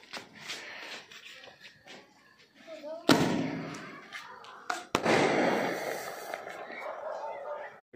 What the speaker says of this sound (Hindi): वसु चला रहा है बुलेट बम